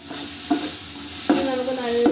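Ginger, garlic and green chilli crushed together sizzle steadily in hot ghee for a chicken biryani, with a few sharp stirring scrapes of a spoon against the pan rising above the frying hiss.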